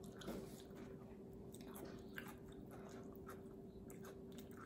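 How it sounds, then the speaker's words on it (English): Soft chewing and biting of cucumber spread with peanut butter in a close-miked eating session, a steady wet munching under a low background hum, with no talking. "Mukbang, cucumber mukbang with peanut butter."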